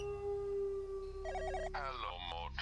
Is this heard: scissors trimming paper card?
no